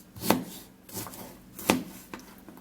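Three sharp knife chops strike a cutting board at uneven intervals, with a softer tap between them in a quiet kitchen.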